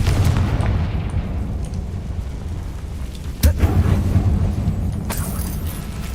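In Hogwarts Legacy, a Confringo fire spell goes off inside an abandoned mine, giving a single sharp blast partway through that punches through a constant low, rumbling background, with no talk.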